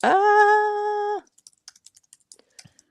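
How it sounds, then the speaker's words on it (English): Keys on a computer keyboard tap in a sparse, irregular run of light clicks, close and clear, following a loud sustained tone at the start. "I'm typing."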